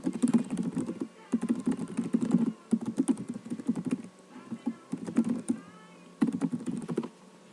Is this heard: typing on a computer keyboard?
yes